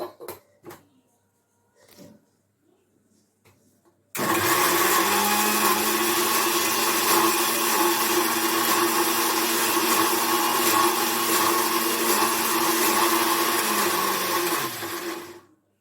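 An electric blender grinds ginger and green chillies with a little water into a paste. Quiet opening taps give way to a loud, steady whirring roar that runs for about eleven seconds before cutting off.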